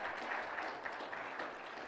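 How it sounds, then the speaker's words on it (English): Applause from a congregation at a Catholic gathering marking a birthday, a steady dense wash of clapping at moderate distance, faint and continuous through the short clip with no talk over it. "Well, don't applaud him."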